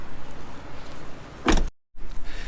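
Inside a Daihatsu Tanto (LA650), the sliding door's easy closer pulls it shut with a single short mechanical whir and thud, then a brief silence and soft cabin ambience.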